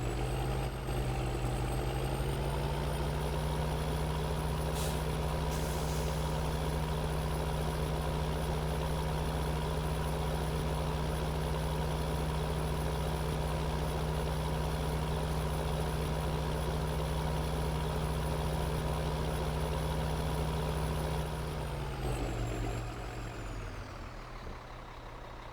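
A tractor and trailer engine in Farming Simulator 2013 drones at a steady low idle, loud and continuous, with a constant high whine on top, then winds down near the end.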